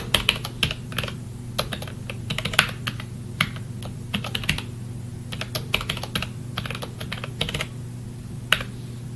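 Fingers type a password on a computer keyboard during a Parrot Linux install, quick irregular bursts of close, light key clicks with brief pauses, no speech.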